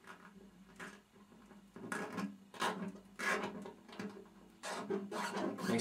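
A nylon guitar string being pulled off the bridge makes a series of close, scraping rasps and rubs in uneven bursts, growing louder toward the end.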